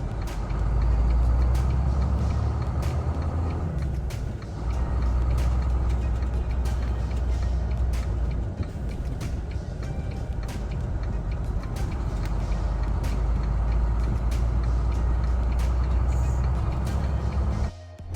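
An 18-speed truck drives steadily with a loud, continuous low engine drone and road rumble, with faint ticking throughout and a brief dip as the gear changes near the end.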